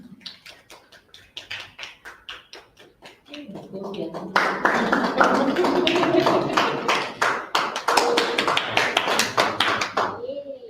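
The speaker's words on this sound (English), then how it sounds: "So let's clap as I pin Edna." An audience claps during a Rotary Club lapel pin ceremony, opening with a few scattered, evenly spaced claps before swelling into fuller, steady applause from the group that continues to the end.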